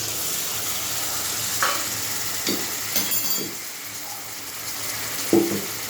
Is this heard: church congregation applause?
no